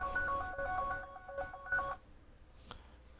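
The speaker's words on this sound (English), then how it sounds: "Sorry about that, phone was going off." A phone goes off nearby with a quick series of short electronic tones for about two seconds, then stops, leaving near silence with a faint click.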